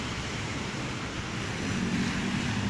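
Heavy rain pouring down in the streets of Makkah, a dense, unbroken hiss and wash of water that holds steady throughout with no voices.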